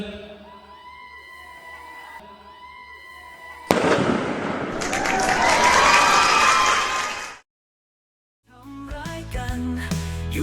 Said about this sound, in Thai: ร่วม จุดพลุ ห้า สี่ สามสองหนึ่ง